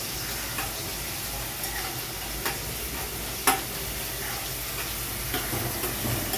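Chopped onion and tomato fry in a pan with a steady close sizzle, and a spoon scrapes and taps against the pan every so often. No one talks.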